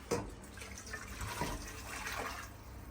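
Water splashes and pours in a few soft bursts, fairly quiet, with a light trickling between them.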